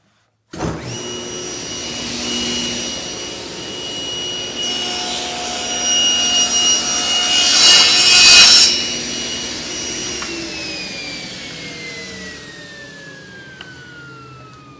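A table saw with a Microjig push stick and stabilizing plate cuts a wooden picture-frame piece, its steady whine rising to a louder rubbing burst as the blade passes through, then spinning down alone.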